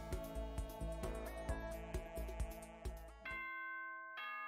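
Nighttime announcement chime in the Danganronpa Trigger Happy Havoc game, a bright multi-note ding-dong melody of bell tones over soft background music, ending in a sustained ringing tone.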